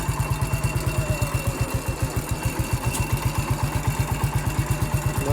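An MF 14 bulldozer's engine runs steadily as the machine drives through a yard over brush and a tree, giving a loud, close, rapid regular chugging pulse throughout with no talk.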